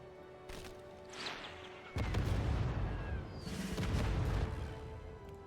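A tank comes under a barrage or ground attack in Civilization VII: a sharp blast at about two seconds, followed by rumbling explosive booms over game music, with no talking.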